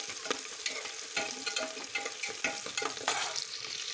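Onion sizzles in hot ghee with a bright, continuous crackle, and a spoon scrapes and stirs through it in quick, uneven strokes.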